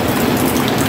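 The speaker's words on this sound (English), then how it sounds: "It's still raining." Steady, dense rainfall hisses and patters on surfaces, loud and unbroken throughout.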